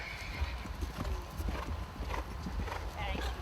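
Hooves clip-clop at a canter around an open horse show arena, with a horse neighing once amid the rhythmic beats and an announcer talking over the loudspeaker.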